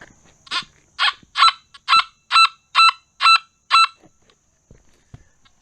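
Nokta Gold Finder 2000 metal detector passed over lead shot, giving eight evenly spaced, nasal warbling tones in a steady rhythm, with quiet handling noise before and after.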